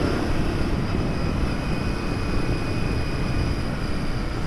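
A Royal Enfield Interceptor motorcycle engine drones steadily while being ridden, a loud continuous roar with rushing wind that holds a constant pitch.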